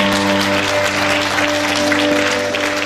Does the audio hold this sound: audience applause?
yes